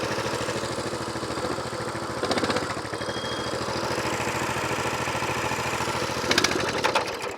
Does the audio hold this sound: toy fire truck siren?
no